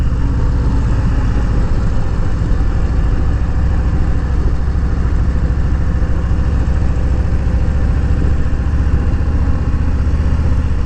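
Steady, loud rumble of a Harley-Davidson Low Rider (FXLR) fitted with Street Slammer handlebars, heard continuously while riding along a road, with a constant engine drone and wind noise and no talking.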